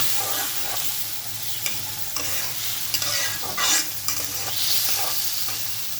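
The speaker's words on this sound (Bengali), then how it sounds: "এবার টমেটোটা গলে যাওয়া অবধি নাড়তে হবে" Steady sizzle of chopped tomato frying with onion as a spatula scrapes and stirs through a pan, continuous and close, with occasional louder scrapes.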